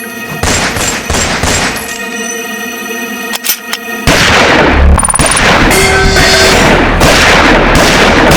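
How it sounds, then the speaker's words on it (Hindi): Rapid bursts of gunfire crack in quick succession, followed by a louder, dense barrage of shots and booms that keeps going to the end. "ये सबको गोली मार रहा है"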